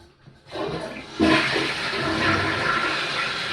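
A household toilet flushing up close, a short click of the handle followed by a loud, steady rush of swirling water that keeps running to the end.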